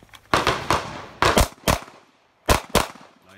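Gunshots fired at damaged shooting targets covered with a trash bag in the rain during a low-light shooting class; five sharp loud reports come in two quick pairs and a single shot, close by, with no talk.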